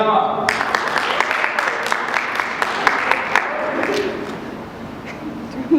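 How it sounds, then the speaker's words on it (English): Audience applause at a 2014 MSA student election event greeting the chief of staff candidate, a steady roomful of clapping that holds evenly for several seconds before gradually thinning out. "please give a round of applause to your next candidate"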